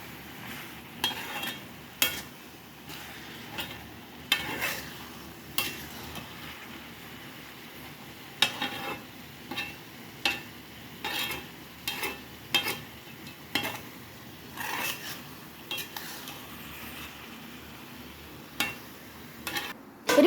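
A jaggery mixture is stirred in a pan over a faint, low simmer, and the spoon scrapes and taps against the metal in irregular strokes, quiet and close, with no voices.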